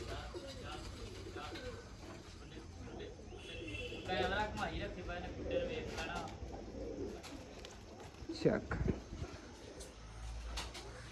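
Soft pigeon coos drift through the scene amid people talking nearby, with some clattering and a brief louder knock near the end.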